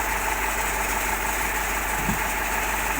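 T-150 tracked tractor engine running at a steady idle, a continuous close, even mechanical drone with faint knocking vibration.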